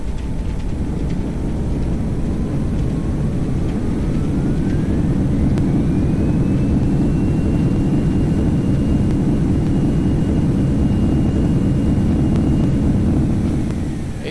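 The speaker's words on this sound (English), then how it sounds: "And touchdown. Reversers are out." Jet thrust reversers roar on a Boeing 737-300 after touchdown in the X-Plane 11 flight simulator, a loud steady broadband rumble with a rising whine that holds and then fades slightly, no talking.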